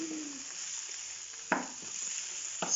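Food sizzles steadily in a hot pan, a constant crackling hiss broken by two sharp scraping stirs of a utensil.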